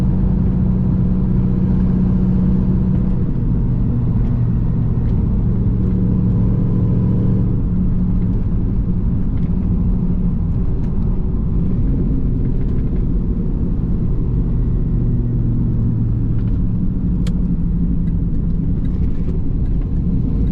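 A cammed Pontiac Trans Am rumbles steadily from inside the cabin while driving, a deep, loud, continuous engine drone with slight rises in pitch as it pulls along.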